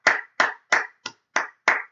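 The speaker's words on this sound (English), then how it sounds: "a big round of applause to our moderator sticking around for 3 hours" Six sharp, evenly spaced hand claps, close and loud, a small round of applause rather than a crowd, sounding at the end of a live financial news broadcast for a moderator.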